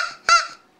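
A Flambeau squeeze-type crow call squeezed once, giving a single short, loud nasal honk that sounds more like a duck or horn than a crow, alone with nothing else around it.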